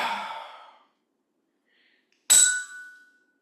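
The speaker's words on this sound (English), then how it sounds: "take a deep breath in" A single deep, close breath rushes out like a soft sigh, then a bright glassy clink rings briefly after a pause of silence.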